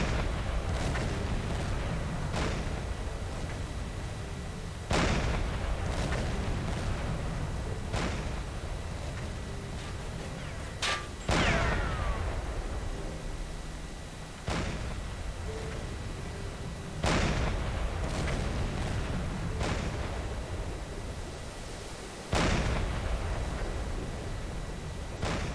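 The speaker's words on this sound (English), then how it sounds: "That guy's got a flak gun that I didn't see." Flak gun fire aimed at a Japanese I-20 submarine in Silent Hunter IV, heard as repeated booming bursts every few seconds, each with a sharp onset and a decaying tail over a constant rumbling background.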